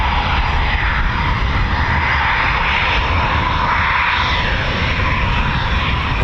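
A Eurofighter Typhoon FGR4 jet roars loud and steady as it moves, not sitting on a ground run, at RAF Coningsby, giving a dense, sustained engine rumble with a broad whine and no voices.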